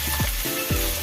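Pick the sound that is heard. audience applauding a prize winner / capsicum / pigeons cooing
capsicum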